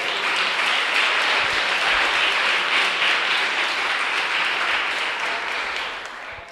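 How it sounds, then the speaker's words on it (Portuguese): Church congregation applauding after a sermon, a steady wash of many hands clapping at full strength that tapers off toward the end. "Pode dar uma salva de palmas para Jesus."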